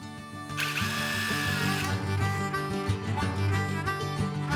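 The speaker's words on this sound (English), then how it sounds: "I'm going to drill a hole right down in here where the pipe goes through" A power drill whirs steadily, boring a hole down through the spot where a pipe passes, a close, loud motor whine that rises in pitch after a quiet start and holds for several seconds.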